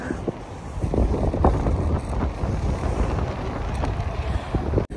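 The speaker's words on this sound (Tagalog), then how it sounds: "Oh my gosh, ang lakas ng hangin, tapos ang lamig pa." Strong, cold wind gusting outdoors in Jubail, Saudi Arabia, a steady broadband roar buffeting the microphone throughout, loud and close with no voices.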